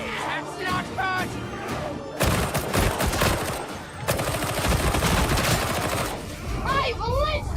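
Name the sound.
gunfire in Warhammer 40k video game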